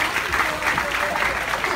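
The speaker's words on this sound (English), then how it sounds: "give him a round of applause" An audience claps during a game show for newlywed couples, a steady wash of applause filling the short stretch with no talk over it.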